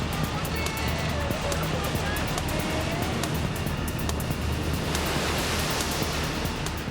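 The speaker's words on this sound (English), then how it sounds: "The waves are big, very big, and they seem to roll on forever." Huge ocean waves from the 2004 earthquake-driven tsunami produce a continuous, dense roar of rushing water that stays loud and unbroken throughout.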